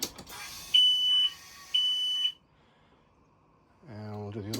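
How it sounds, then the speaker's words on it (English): Two short, clean electronic self-test beeps from a Sea Ray 280 Sundancer boat's systems sound a second apart, followed by quiet and then a low hum starting up. "The beep means it's good."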